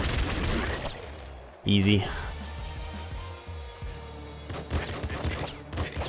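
Several enemies open fire at once in the video game Nuclear Throne, a loud burst of overlapping gunshots and crackling weapon effects under game music, while a player talks over the noise.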